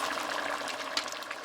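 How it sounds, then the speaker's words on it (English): Boiling water pours steadily into a pot of curry beef in a continuous hissing, splashing stream, close by and moderately loud, with no voices. "I'm going to add 1 cup of boiling water again."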